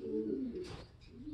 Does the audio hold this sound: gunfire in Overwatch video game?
no